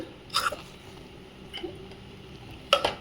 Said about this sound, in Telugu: ఈ విధంగా కలుపుకుంటూ మెత్తగా అయ్యే వరకు రైస్లో పిండి కలిసిపోయి మెత్తగా ముద్దలాగా అయ్యే వరకు కలుపుతూ ఉండాలి